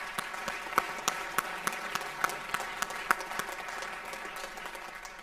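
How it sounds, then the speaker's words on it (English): An audience at a high school spring sports awards ceremony applauds, a thin, scattered patter of clapping from a modest crowd with a few sharper individual claps, fairly faint. "So we'll give her a round of applause for that accomplishment."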